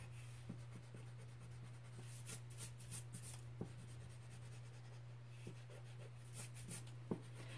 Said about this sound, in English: So now, to prevent you from getting confused here, we can erase a little bit of these guidelines.